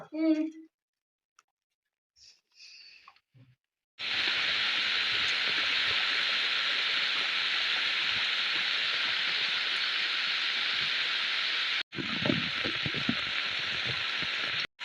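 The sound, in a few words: heavy rain outside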